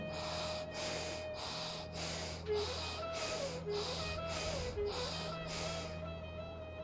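Slow, rhythmic yoga breathing: about eight forceful breaths in and out through the nose, evenly spaced, close and fairly quiet over soft sustained background music.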